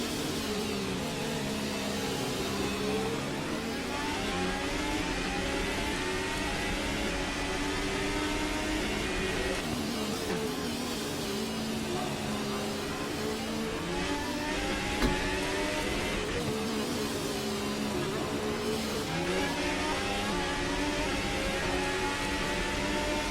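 An onboard race car engine at the Austrian Grand Prix hums steadily, a constant close drone with only slight swells over a long stretch, with no talking.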